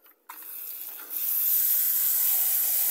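Water gushes from a tap into a pot used for tumbling agate rocks, starting abruptly and building to a steady, close hissing stream after a second.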